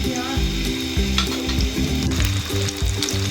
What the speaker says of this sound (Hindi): साथ दूसरी टिक्कियाँ दोबारा फ्राई करेंगे